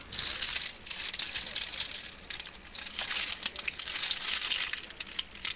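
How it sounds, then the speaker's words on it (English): Plastic chocolate bar wrapper crinkling and rustling as it is torn open, a continuous close, bright crackle with uneven bursts and brief pauses, no talk. "Someone's opening a chocobar."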